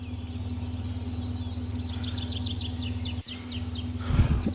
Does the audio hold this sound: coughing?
no